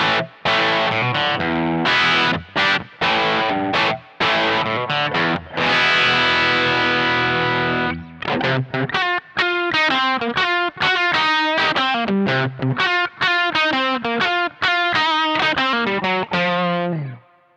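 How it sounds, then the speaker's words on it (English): Distorted electric guitar played through a Two Notes Torpedo Captor analog speaker-cabinet simulation: loud chugging chords and stabs at first, then a fast run of picked, staccato notes with short gaps, ending abruptly. "Now let's turn on the cabinet simulation on the 2 notes Torpedo Captor."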